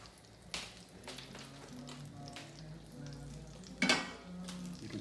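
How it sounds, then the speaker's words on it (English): Butter sizzles and crackles in a hot pan for a steak dish, a quiet steady frying hiss with scattered pops and one brief louder clink of cookware. "You can hear it starting to sizzle."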